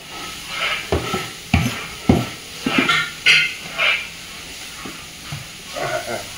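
Food frying and being stirred in a large monastery kitchen cooking for about 200 monks, with repeated scraping stirs and bursts of sizzling in an irregular rhythm, fairly close, with faint background noise.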